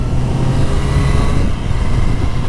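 Triumph Street Triple RS motorcycle engine running steadily on a demo ride through busy Saturday streets, a continuous low engine drone holding an even pitch with dense road and wind noise around it.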